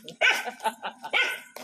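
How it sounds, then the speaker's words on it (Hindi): Several short, loud dog barks burst out in a close, irregular string along a street where many dogs roam, with faint voices in the background. "बापा इधर कुत्ता कुछ ज्यादा ही है"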